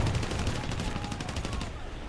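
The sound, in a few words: Yak-9 cannon fire in a flight video game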